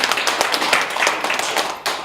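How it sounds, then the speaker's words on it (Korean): An audience at a formal gathering claps in a brief burst of applause, close and fairly loud and lasting about two seconds. "박수 한번 해주세요"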